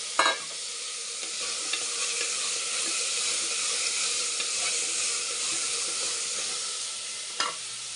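Potatoes fry in a pan of oil for toor dal sambar, a dense, steady sizzle with a sharp clatter as they go in at the start and another stir knock near the end, close and unbroken.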